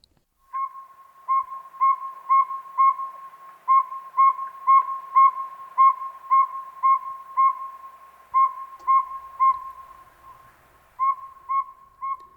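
A steady series of short, high whistled toots repeats at an even, monotonous pace, the tooting call of a northern saw-whet owl.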